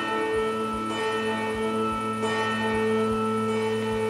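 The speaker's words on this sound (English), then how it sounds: "Whoa, there's a gigantic bell there." Large bell in the video game Medusa's Labyrinth rings with a deep, sustained tolling tone, struck repeatedly at a steady pace with low thuds under a long humming resonance.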